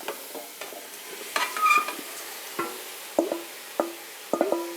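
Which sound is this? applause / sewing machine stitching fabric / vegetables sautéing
vegetables sautéing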